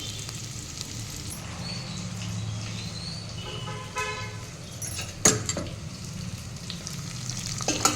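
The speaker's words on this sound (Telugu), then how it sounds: "సో ఇది కాసేపు ఫ్రై అవ్వాలి" Drumstick pieces fry in a pan of sambar with fenugreek leaves, giving a steady, close sizzle broken by occasional sharp clinks and scrapes as they are stirred.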